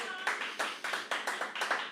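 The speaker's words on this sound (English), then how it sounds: "you can clap that up" Small group clapping in a few irregular sharp bursts, close and fairly loud, at a community news gathering.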